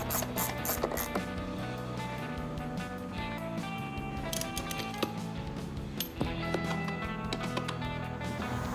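Ratchet tightening a big bolt while replacing drip pans on a Porsche 986, a continuous rapid clicking close by, sustained with slight rhythm changes throughout.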